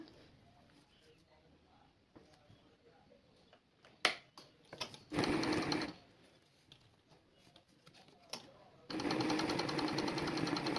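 Domestic sewing machine running a straight running stitch for basic machine embroidery, heard in two loud steady whirring bursts between quieter handling clicks and taps, close up.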